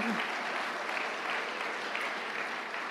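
A church congregation at a Tagalog preaching service claps loudly and steadily, a dense, even wash of applause lasting the whole three seconds with no pauses.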